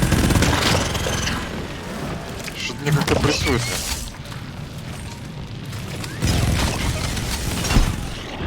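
Booming blasts from exploding enemies in a video game, mixed with rattling gunfire and mechanical clatter, repeated loud bursts while someone talks over the action.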